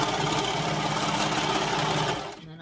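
Serger sewing machine stitching a fabric scrunchie, a fast steady mechanical chatter heard up close and alone, running continuously before winding down and stopping near the end.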